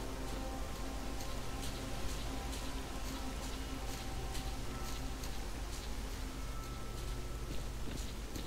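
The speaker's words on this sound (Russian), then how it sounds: "опять дождик" Steady rain falls in the S.T.A.L.K.E.R. Call of Pripyat game world around Pripyat, a constant dense hiss of drops with faint scattered louder patters, no talking over it.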